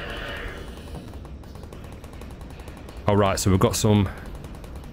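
An automated gun turret shooting in Half-Life: Alyx, a steady rapid patter of distant gunfire running throughout, with someone talking briefly over it near the end.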